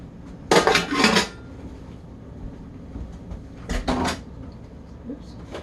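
Two short clattering bursts of an empty metal coffee pot being handled for cowboy coffee at a camp kitchen, close and fairly loud, separated by quiet room tone.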